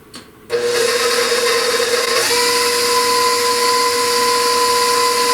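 Electric mixer beating cake batter with almond extract added, a steady loud motor whir that starts abruptly and holds, with a slight pitch shift partway through.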